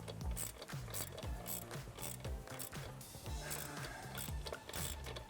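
Rapid ratchet wrench clicking while a trailer is set up, close and steady in quick repeated strokes, with bits of other clatter mixed in.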